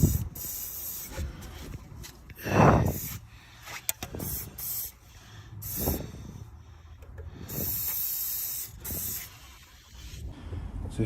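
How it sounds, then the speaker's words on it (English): Aerosol lubricant sprayed onto lower control arm bolts on a Tesla Model S suspension, several separate hissing bursts of varying length up close, with faint rubbing and handling noises between them. "I'm just going to lubricate these bolts so they're easier to come out."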